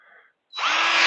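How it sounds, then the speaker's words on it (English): A power drill bores a tap hole into a maple tree outdoors, starting abruptly after a brief pause and then whirring loudly and steadily at close range. "then we'll drill this one over here"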